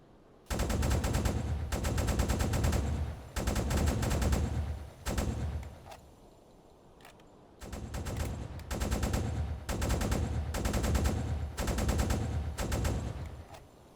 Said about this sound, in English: With the anti-aircraft high explosive shells, we managed to get this ship well and truly ablaze.